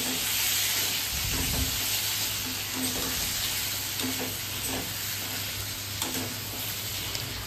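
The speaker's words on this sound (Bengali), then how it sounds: "এই জন্য পটলটা আগে ভেজে নিচ্ছি" Pointed gourd (potol) fries in a pan with a steady broadband sizzle and hiss throughout, broken by a few low scraping stirs and clinks; close and fairly loud, with no talking.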